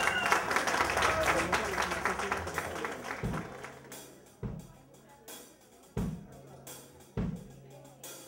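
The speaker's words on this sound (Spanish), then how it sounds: "Aplausos para ellos." An audience applauds a rock band with dense clapping that gradually thins, followed by quieter stretches with voices and repeated low thumps.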